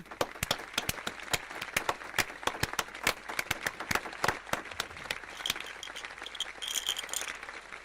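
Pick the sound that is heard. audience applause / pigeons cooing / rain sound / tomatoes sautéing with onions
audience applause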